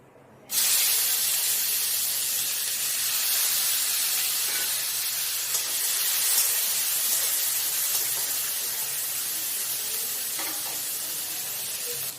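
Chopped tomatoes hit hot oil with spices in a pan for a lightly spiced paneer dish, setting off a loud, steady hiss and sizzle that holds for about twelve seconds with faint stirring and no voices.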